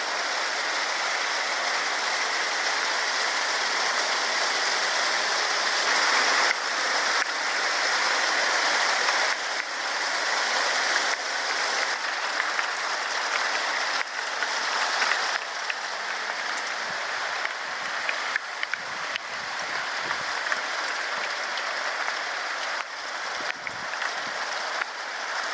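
Steady rain falling outdoors during a wet spell, a continuous even hiss of drops on surfaces lasting throughout, fairly close and constant with no voices.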